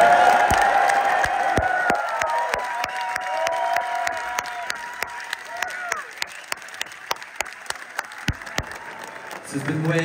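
A crowd at a live rock concert applauds and cheers loudly and steadily, with whoops over dense clapping that thins toward the end.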